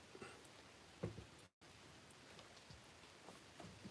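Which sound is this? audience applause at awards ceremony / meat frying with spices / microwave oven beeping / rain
rain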